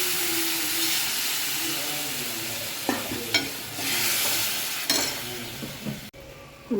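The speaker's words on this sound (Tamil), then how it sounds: "ஊற்றிட்டு நல்லா கொதிக்கிட்டோம்." Tamarind water for sukku milagu kuzhambu bubbles and sizzles steadily in a pot, a soft, continuous hissing with a few brief clinks and stirring scrapes near the end.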